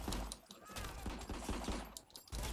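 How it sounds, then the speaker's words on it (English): Rapid video game gunfire from RICO strikes the player, a dense fusillade of overlapping shots and impacts pounding continuously and loudly throughout with short bursts and thuds. "God damn, I'm getting shot up."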